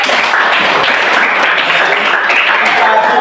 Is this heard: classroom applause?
yes